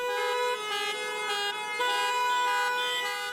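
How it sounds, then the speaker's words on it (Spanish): Several car horns blare together in protest in a sustained, overlapping chorus, with a few honks swelling and fading over a steady tone. "ahora prueban a bocinazo limpio"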